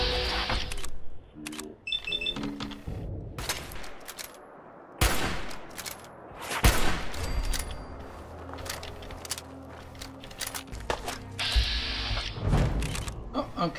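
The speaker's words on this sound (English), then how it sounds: "here's some gunfire, but couldn't tell where it's coming from" Fallout 4 gunfire with scattered bursts of shots and sharp cracks amid game effects, irregular and moderately loud, the firing heard in clusters across the clip.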